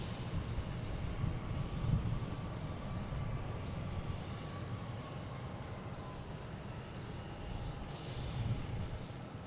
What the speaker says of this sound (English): we have Southwest taking off here